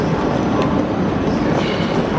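A first-class train rumbles on continuously with a dense, loud, even roar of wheels and carriage noise, heard from close by at a station or on board, on a route from Prague to Vienna.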